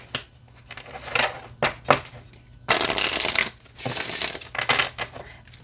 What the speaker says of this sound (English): So let me show you how this shuffles.